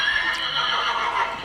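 A pony's neigh, a shaky whinny heard fairly close and clearly over a steady outdoor background.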